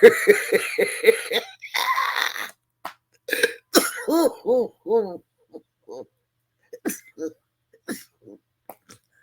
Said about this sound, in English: don't think anything bad about the cough